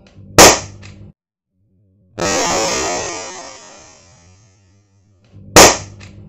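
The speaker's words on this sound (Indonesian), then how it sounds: "seperti itulah cartridge jika ditembakkan menggunakan launcher ini ya" An airsoft grenade launcher fires a gas cartridge: two sharp, loud pops several seconds apart, with a long hiss of escaping gas between them that slowly fades out.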